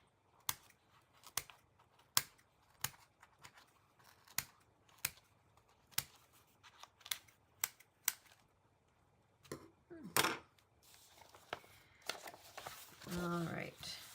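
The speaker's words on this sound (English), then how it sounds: "So now I can get the scissors." Scissors snipping through paper during vintage children's book binding repair, with a series of crisp, close cuts in an irregular rhythm, then rustling and handling noises and a brief voice near the end.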